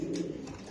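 A female pigeon gives a brief, low, throaty coo close by, standing alone.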